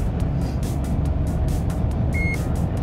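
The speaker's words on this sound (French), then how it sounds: "Vous allez entendre un petit bip en dessous de chaque portique" A single short electronic beep from a toll badge passing under a barrier-free toll gantry in France sounds once near the end, over the steady rumble and road noise of a car driving along a highway.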